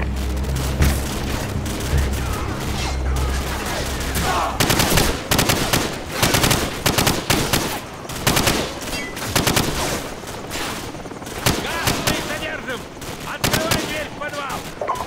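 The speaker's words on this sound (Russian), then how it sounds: "Ответный огонь!" Heavy gunfire exchange in the video game Call of Duty 4, with dense bursts of automatic rifle and machine-gun fire rattling loudly and continuously across the whole stretch, mixed with sharp single shots and shouted voices.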